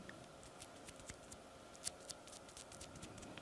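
Eyebrow tattoo sticker handled up close, giving a faint, crisp crinkling and rustling with a few sharper clicks and snips over a quiet background, no talking.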